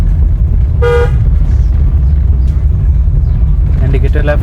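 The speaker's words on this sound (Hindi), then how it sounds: "हॉर्न बजाइए" During a driving lesson, a car horn gives one short toot over a steady engine rumble inside the moving car, followed later by faint broken tones as an instructor speaks.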